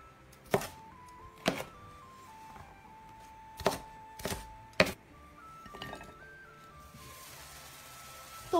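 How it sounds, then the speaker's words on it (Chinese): Green and red peppers chopped on a cutting board while cola tofu simmers, several sharp irregular knife thunks spaced apart over a faint tonal melody in the background. "这个时间我们来切点青红椒"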